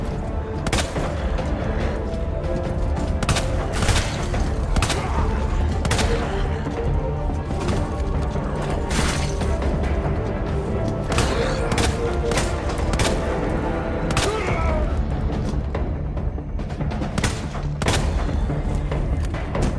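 Repeated gunfire from the video game Resident Evil 2 as zombies are shot, loud sharp reports at irregular intervals over a dense, continuous game soundtrack and ambience.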